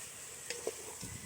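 Dried fish frying in hot oil in a pan, a soft steady sizzle with faint stirring clicks close by, and no talking.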